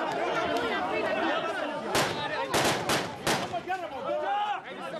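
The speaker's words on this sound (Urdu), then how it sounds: "اور اس پر عراقی فوجیوں کی ہوائی فائرنگ۔" Iraqi soldiers fire guns into the air above a crowd jostling for food aid, several sharp loud bursts of gunfire over constant crowd chatter and shouting.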